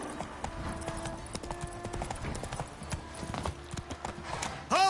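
Galloping hoofbeats of Roach, a horse in The Witcher 3 video game, a steady rapid clip-clop running throughout under game music, with a brief louder burst at the very end.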